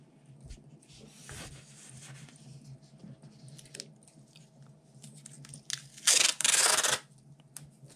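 Adhesive tape torn from a roll to join two overlapping paper sheets, a loud ripping burst near the end after quieter rustling and handling of paper.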